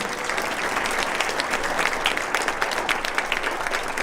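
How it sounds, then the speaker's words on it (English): A crowd applauds loudly and steadily, a dense patter of many hands clapping close by for the whole moment. "Give him a big round of applause."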